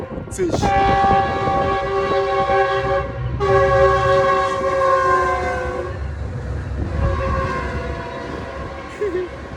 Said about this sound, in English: Hold on, the train coming, let it pass.